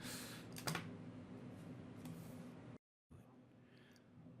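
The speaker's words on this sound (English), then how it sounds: "We're going to go pound some keys." Steady typing on a computer keyboard, soft and continuous clatter of keys with a brief moment of silence near the end before the tapping resumes.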